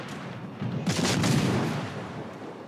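Anti-aircraft guns aboard a warship in a naval combat game fire a dense, rumbling burst of rapid reports that swells and fades over about two seconds, heard at a moderate distance.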